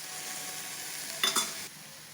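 A spatula stirs drumstick leaves and flowers sautéing in a pan, a soft steady sizzle broken by a brief scraping burst of stirring in the middle, close and quiet with no voices.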